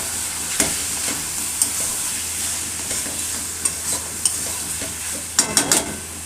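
Mutton frying in oil in a covered pot, a steady sizzle with scattered sharp spoon scrapes and a quick burst of stirring clatter toward the end, close and fairly loud.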